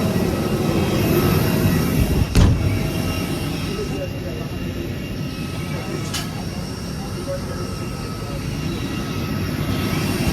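Air India airplane at an airport, its jet engines producing a steady loud roar throughout, with a couple of sharp thuds breaking through.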